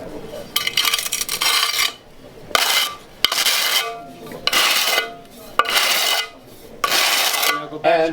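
A trowel keys fresh thinset mortar onto the back of a tile in repeated scraping strokes, each a loud gritty rasp followed by a short pause, close up, with no talking.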